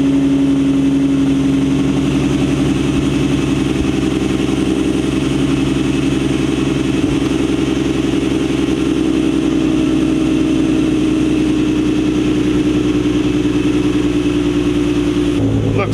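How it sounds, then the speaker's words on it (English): A Nissan VQ35DE V6 idles loudly and close by after its first startup with the intake sprayed, holding a steady low drone that drops off sharply at the very end. "give it our first startup and probably carry it around the block and see what it does"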